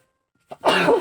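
A single sneeze from a woman reading aloud indoors: a short sharp intake, a brief pause, then a loud, breathy burst of about half a second, close to the microphone, with no talk over it.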